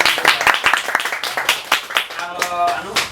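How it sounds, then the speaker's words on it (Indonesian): Students clapping during a casual campus talk show, quick bursts of close hand claps with a voice chiming in over the end. "Tepuk tangan."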